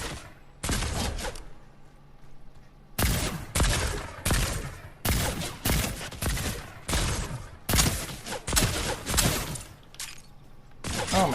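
Bursts of gunfire in the video game Fortnite come as loud, rapid volleys of shots separated by short pauses, repeating across the whole stretch with no voice over them.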